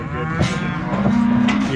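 Cattle on a Montana ranch moo while calves and cows are loaded up a ramp during a cattle drive, two loud, close bellows, the second drawn out and steady.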